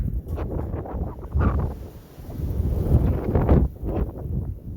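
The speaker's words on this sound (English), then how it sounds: "I know it's quite windy" Wind gusts buffeting the microphone in a vegetable garden, producing low rumbling bursts that rise and fall, with a rustling outdoor hiss behind them.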